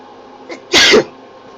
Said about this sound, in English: that's because I went on a sneezing frenzy